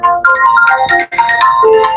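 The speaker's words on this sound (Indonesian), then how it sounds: "ini ada telepon sebentar ya" A phone ringtone sounds for an incoming call, a loud, continuous electronic melody of bright, stepping tones that fills the whole two seconds with one brief dip near the middle.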